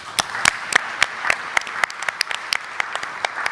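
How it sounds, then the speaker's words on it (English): Audience applause at an arts and creative spaces conference, a quick round of scattered, separate claps with distinct sharp hits rather than a dense roar, fairly close and moderately loud, with no talking over it. "So I'd just love to give the team at Arts Access a quick round of applause."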